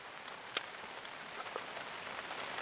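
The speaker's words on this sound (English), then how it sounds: "certainly in the last hour or so, that rain's got heavier" Rain falling steadily over an outdoor fishing spot on a wet morning, a soft continuous patter with scattered sharper drops striking nearby surfaces, quiet and fairly close, no voices.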